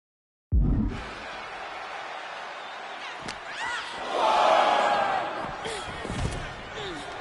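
Arena crowd in the WWE 2K25 wrestling video game, a loud sustained roar that swells into cheering mid-clip after an opening thud, with a commentator's voice over it.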